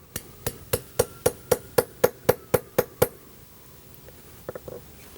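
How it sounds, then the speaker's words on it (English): Sharp hammer blows punching a toe hole through a 4mm huarache sandal sole, eleven evenly spaced strikes close by, followed after a pause by a few fainter taps. "So I'm going to go ahead and put that in and hammer it down."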